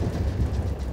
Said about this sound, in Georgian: მატარებელი მიზოზინობს